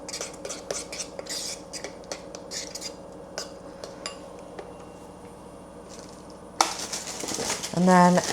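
A spoon stirs whey protein powder mix in a container, rapid metallic clinks and scraping taps in a quick rhythm, close by, followed by a louder clatter and rattle at the end.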